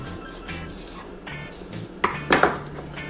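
A knife working through amberjack meat on a board: soft cutting strokes, then a couple of sharp metallic clinks and knocks near the end, close up and fairly quiet with no talking.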